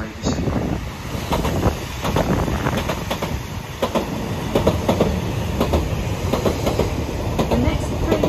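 Trains roll past on the platforms at Stratford station in London, with a steady, loud rumble of wheels and rhythmic clickety-clack over rail joints, mixed with wind noise and faint background voices.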